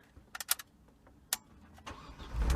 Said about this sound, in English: I will just turn on the car and I will show you guys how this works.